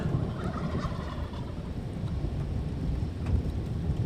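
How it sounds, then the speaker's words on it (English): Turkeys gobbling outdoors during a passing supercell thunderstorm near Sidney, Nebraska, with rough, burbling calls mixed into a dense rumble of wind, rain and thunder with no talk. "Yeah, you hear the turkeys all right."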